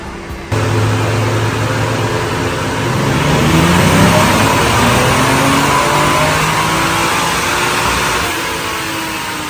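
A stock Toyota JZX100 Chaser on a dyno, its engine droning loudly and steadily as revs climb through a long sustained pull, close and dominant, with no talking.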